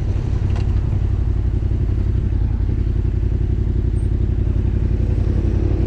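A WSK motorcycle engine running close by, a loud steady putter with a rough, even idle rhythm throughout and no voices.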